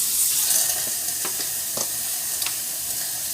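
Food sizzles loudly in a hot stainless steel wok, a close, steady hiss of frying with small crackles and pops throughout, no voices.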